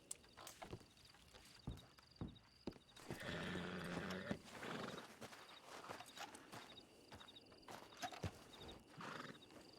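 A horse in a Western-style video game gives a clear whinny amid clopping hooves and footsteps, with quiet ambient noise around it.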